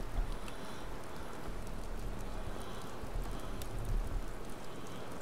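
Steady rain falls in Watch Dogs (E3 2012 mod), a dense, even hiss of drops on surfaces with a low rumble beneath, continuous and fairly close throughout, with no talking.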